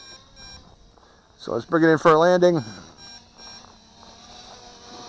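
A steady, high-pitched electronic beeping from an MJX Bugs 2W drone controller in the desert runs throughout, while someone speaks briefly partway through.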